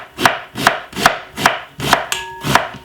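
Knife chopping a piece of white onion on a board, six even, crisp strikes spaced roughly half a second apart, close and clear with no talk.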